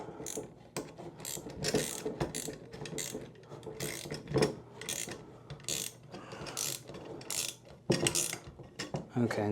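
A nylock nut on a propane tank bracket strap is tightened with a ratchet, giving rapid rhythmic clicking and metallic rattles up close, in uneven bursts.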